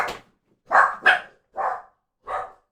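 A dog barks five times indoors, fairly close: a short bark, a quick double bark, then two more spaced barks, with silence between them.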